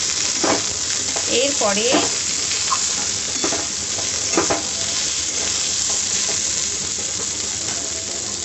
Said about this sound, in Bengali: নুন দিয়ে একটু নাড়াচাড়া করে নেব